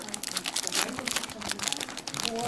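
A Pokémon card booster pack being torn open and its foil wrapper crinkled by hand, a steady close crackling and rustling that runs throughout, with a voice speaking over part of it.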